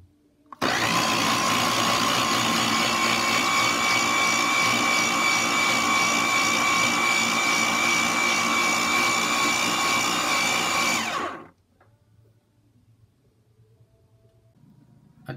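A kitchen appliance standing in for a blender whirs loudly and steadily while mixing a strawberry milk shake, running alone for about ten seconds before abruptly winding down and stopping, leaving faint background noise.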